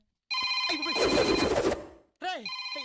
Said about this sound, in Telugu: ఎవడో వచ్చి ఫోన్ తీయండి రా.